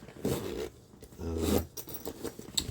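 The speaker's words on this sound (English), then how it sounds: "It's got a good zipper on it. Nice big zipper." A big zipper on a bag is worked back and forth, two quick rasping zips close to the microphone followed by a few lighter scrapes and rustles, with no talk.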